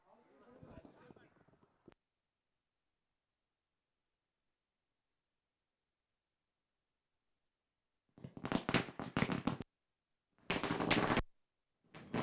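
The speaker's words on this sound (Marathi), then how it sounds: "फटाक्यांच्या आतिषबाजीमध्ये आपण त्यांचं स्वागत करत आहोत" Firecrackers burst at a welcome entry during the Maitri Chashak 2023 tournament, with loud, dense crackling volleys in two rapid clusters after a long silence. A voice speaks briefly at the start.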